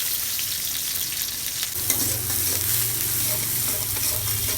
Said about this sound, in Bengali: এখন আমি মাঝখানে ডালটা বাঘার দিব, ওই জন্য তেল দিয়ে দিচ্ছি কড়াইয়ে।